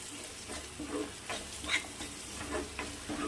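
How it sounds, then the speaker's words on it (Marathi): Tomato, turmeric, chilli powder and garam masala frying in oil for a brinjal curry while being stirred, with a steady close sizzle and repeated scraping strokes of the spoon against the pan. "आता यामध्ये हळद आणि तिखट तिखट आवडीनुसार घ्या आणि मी हिरवी मिरची घेतली होती वाटणमध्ये आणि अर्धा चमच गरम मसाला याला असं मिक्स करून घेऊ"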